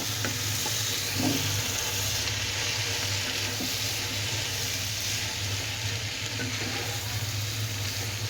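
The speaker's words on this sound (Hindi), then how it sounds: "तो सारी स्पैगेटी हम इसमें डाल देंगे और हम करेंगे इसको अच्छी तरह मिक्स" Spaghetti stir-fried and tossed in a pan for chicken and vegetable chow mein, a steady close sizzle with soft scraping and stirring throughout, no voices.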